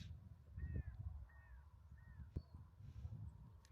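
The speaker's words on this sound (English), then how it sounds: "The noise of the birds and the fresh air hitting my face" Birds calling outdoors on a Scottish island on a quiet morning: a few short, separate chirps and caws at moderate distance over soft wind and low rumble, no talk.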